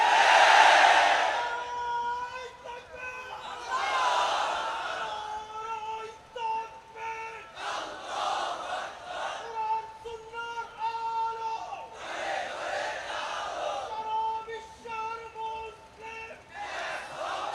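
A large crowd at a religious gathering chants slogans in loud, rhythmic call-and-response waves, swelling and fading in repeated bursts for the whole stretch.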